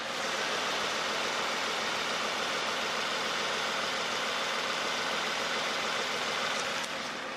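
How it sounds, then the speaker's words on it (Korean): A steady Genesis DH sedan V6 engine, with about 90,000 km, idles close by, a smooth, even hum with no revving and no voices, holding constant throughout. "제가 개인적으로 좋아하는 V6 엔진 소리 한번"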